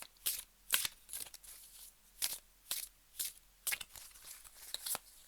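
Playing or oracle cards being shuffled by hand before a card draw, a series of quick riffling bursts repeating in an uneven rhythm, close and fairly quiet with no talking.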